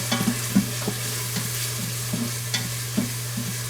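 Garlic frying in a pan while being stirred, giving a steady sizzle under repeated scraping and tapping strokes of the utensil, close up and without talk.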